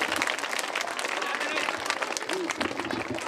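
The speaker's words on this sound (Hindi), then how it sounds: "ठीक है, तालियों के साथ।" Audience applause at a school annual gathering gymnastic show in Pimpalgaon, steady dense clapping from a crowd with voices mixed in, continuous throughout.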